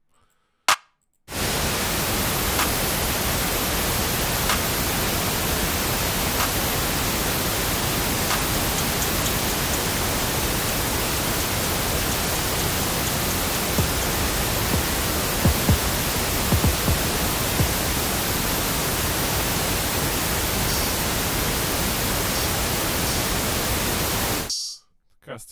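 A steady pink noise test signal for mixing levels hisses at constant loudness for about 23 seconds, starting and stopping abruptly.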